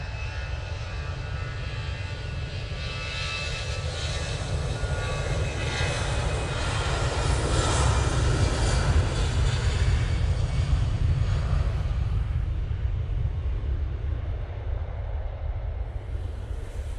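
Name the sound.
EasyJet airliner departing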